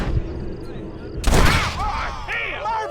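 A single gunshot cracks sharply in the Western video game Red Dead Redemption, loud and close after a quieter stretch, followed by a voice talking.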